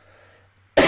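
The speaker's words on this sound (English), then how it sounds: "Apologies, got a right cough." A single sharp, close cough bursts out abruptly after near silence, loud and rough at the very end of the moment.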